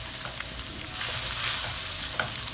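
A frying pan of carbonara ingredients with ham is stirred over heat, giving a steady close sizzle and hiss that swells midway, with faint scraping and no voices.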